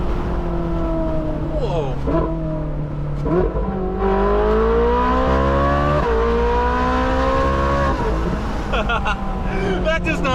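Hemi Plymouth Superbird V8 roaring loud and close as it revs and downshifts, pitch climbing in repeated sweeps with sharp drops at each gear change; a man exclaims over the din.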